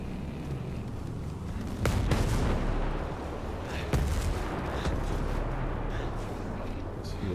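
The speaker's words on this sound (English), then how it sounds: "hit us with mortar" Mortar fire in the video game Ghost Recon Breakpoint, a rumbling barrage with two sharper booming impacts around two and four seconds over a continuous low roar, loud and dense with no clear talking.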